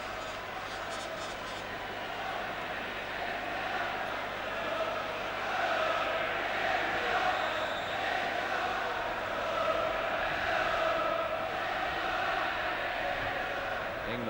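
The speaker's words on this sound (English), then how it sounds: "England are back, say the crowd" Football crowd at a 1982 World Cup qualifier between England and Norway, a dense stadium roar with rising chant-like swells running throughout, steady and broad, with a commentator's voice faintly woven in.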